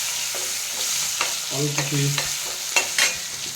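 Chopped onions frying in oil with cumin and turmeric, a steady sizzle under repeated utensil scrapes and taps as the pan is stirred; a brief word is spoken.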